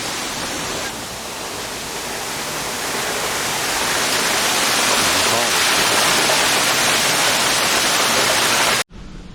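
Waterfalls far below a mountain overlook on Lookout Mountain, heard as a steady broadband rush of falling water that swells slightly and stays loud throughout, cutting off abruptly near the end.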